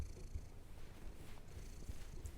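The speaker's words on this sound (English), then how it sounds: "She's giving you some ASMR purrs and neck scratches" A pet cat purring softly and steadily up close in a quiet room while being given neck scratches, a low continuous rumble with faint rustling.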